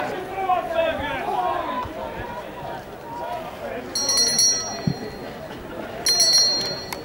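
A last-lap bell rings out at a men's 5000m track race, two short bursts of ringing heard over continuous crowd noise and commentary.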